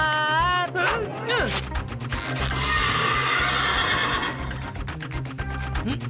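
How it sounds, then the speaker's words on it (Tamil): A cartoon horse gives a loud, wavering whinny that opens the scene, followed by rhythmic clip-clop hoofbeats and busy cartoon sound effects. "சார் நான் குதிரையா மாறிட்டேன் சார்."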